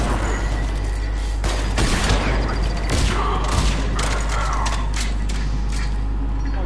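Battle sounds in the video game Mass Effect 3 multiplayer: loud repeated booming impacts and gunfire bursts over a constant low rumble, with a grenade among the blasts.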